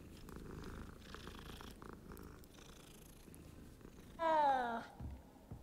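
A cat purrs while being petted in the Hogwarts Legacy video game, a soft low rumble running steadily under quiet background sound, followed by a short louder tonal meow-like chirp near the end.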